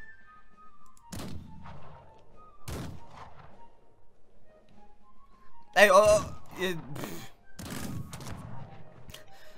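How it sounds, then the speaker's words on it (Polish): Scattered video game gunshots crack and boom at intervals, some distant and some closer in quick bursts, while a person talks between them. "tu cały czas są jakieś strzały"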